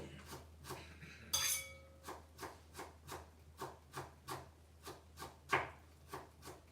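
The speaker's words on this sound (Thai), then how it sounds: "หั่นหัวหอมใส่ถ้วยนะคะ" Knife chopping onion on a board for an egg dish in a home kitchen, a steady run of about a dozen even, close cuts with a brief clink of the knife against the bowl near the start.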